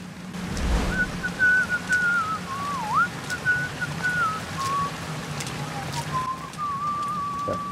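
A guard whistles a wavering, meandering tune in the stealth video game Thief, a clear melodic line drifting up and down over a soft hiss of rain and ambient noise, moderately close.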